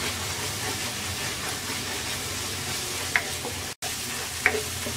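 A spice masala of turmeric and coriander powder fries in a pan with a dense, even sizzling hiss. It is broken by a couple of brief clinks and a momentary cutout near the end, with no talking.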